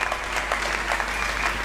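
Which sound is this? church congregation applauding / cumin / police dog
church congregation applauding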